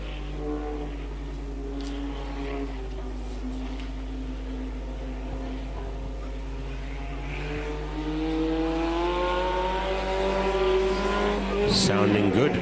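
Stock car B75 runs testing laps on a race circuit, its engine a steady, moderately distant drone that rises in pitch as it accelerates, ending in a brief sharp noise, with a voice talking over it.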